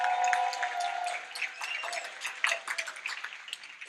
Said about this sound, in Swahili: A better round of applause for Mr. Rodney Maina